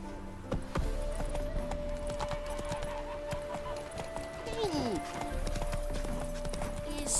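Hooves of Roach, a horse in The Witcher 3, clip-clop steadily at a walking pace close by, set against game ambience and a background voice or music.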